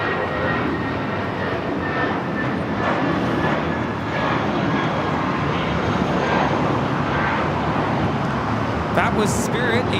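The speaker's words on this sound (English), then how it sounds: "That was Spirit 840 taking off to Houston Intercontinental on the A320" A Spirit Airlines Airbus A320 takes off at Los Angeles International Airport, its engines producing a continuous, broad jet roar that holds steady throughout, heard from a distance amid airport ambience.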